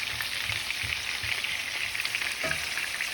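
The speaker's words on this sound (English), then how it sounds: "she's just gonna flip them over and fry them basically" Meatballs for kufteh ghelgheli fry in a pan with a continuous hissing sizzle and faint low bubbling pops throughout, close and steady with no talk.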